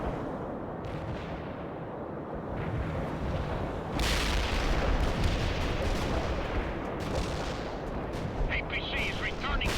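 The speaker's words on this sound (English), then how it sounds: "APC is returning fire." An APC fires in the World in Conflict video game, with loud, dense, sustained gunfire and heavy booming battle noise throughout, the intensity rising partway through, under faint game voice callouts.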